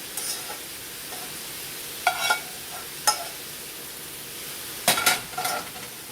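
Ground beef sizzling softly in a cast iron skillet, with a low steady frying hiss broken by several scraping stirs and clinks of a utensil against the pan.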